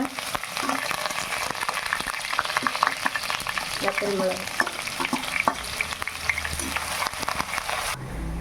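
Mustard seeds and curry leaves fry in hot oil for a mango, drumstick and dried prawn curry, giving a steady close crackle and sizzle with scrapes of stirring throughout and no talk.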